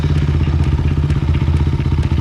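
A motorcycle engine rumbles steadily and loud at close range, a low throbbing idle with light mechanical clatter throughout.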